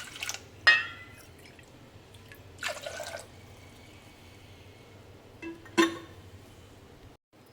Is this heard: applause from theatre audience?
no